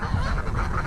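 Geese honk repeatedly in a fenced farm enclosure shared with ducks and turkeys, a dense overlapping chorus of nasal calls at close to mid distance, with no talking.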